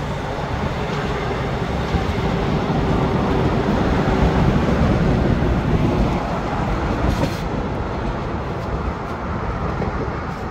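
Trains rolling across an old bridge in South Korea make a loud, continuous rumble with rhythmic wheel clatter close by, steady throughout.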